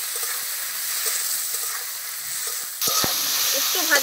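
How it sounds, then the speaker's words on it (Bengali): Chopped onions and tomatoes sizzling in hot oil in a pan, a close steady crackling hiss that swells louder partway through as stirring scrapes and clinks break in. "একটু ভেজে নিই"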